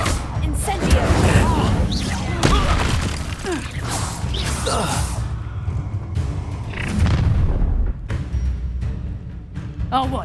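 A fire spell is cast in Hogwarts Legacy, a loud whooshing burst among booming combat effects. Shouted dialogue overlaps it.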